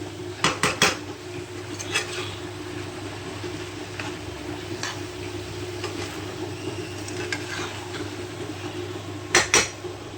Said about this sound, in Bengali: এর মধ্যে আমি দিয়ে দেবো সেদ্ধ করে রাখা ছোলা কলা। এবার এটাকে ভালো করে নাড়াচাড়া করে দেবো।